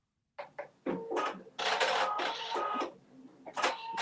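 A machine satin-stitches around a bow, whirring and chattering loudly up close in several start-and-stop bursts of rapid mechanical stitching.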